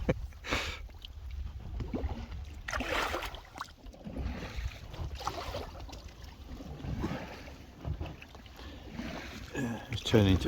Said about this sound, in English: We're actually rowing along